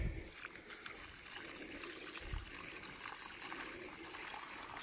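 Water poured onto the soil around a newly planted potted plum tree, a faint, steady trickle and splash lasting a few seconds, with no talking.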